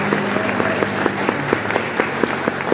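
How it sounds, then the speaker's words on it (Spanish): Steady applause from a panel audience, many hands clapping together at close range, sustained throughout. "Pido un fuerte aplauso"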